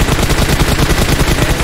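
Rapid automatic gunfire in the battle royale game PUBG Mobile, a dense continuous burst of shots lasting the whole moment, loud and close.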